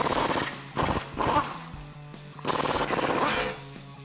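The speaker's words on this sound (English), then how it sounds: "I'm gonna use an 18 millimeter deep socket to disconnect the 4 bolts that are holding it on." Socket wrench on an 18 mm deep socket loosening transfer case skid plate bolts on a Jeep Wrangler JK, heard as two long bursts of rapid mechanical rattling separated by pauses, close and fairly loud with no talk.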